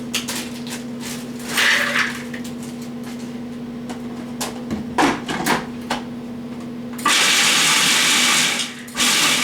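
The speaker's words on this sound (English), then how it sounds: "we're going to break that up with Escalade in the food processor" A food processor chops a cup of walnuts in short bursts of whirring and clattering, with a steady motor hum underneath, then one long loud continuous run near the end.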